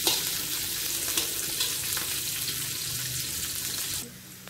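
Onions frying in a pan until golden brown, a loud, dense sizzle with occasional stirring scrapes, cutting down abruptly to a quieter hiss near the end.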